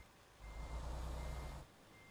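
An in-game truck in American Truck Simulator reverses with a steady run of evenly spaced electronic backup beeps under a low engine rumble, then cuts off abruptly. Nobody speaks.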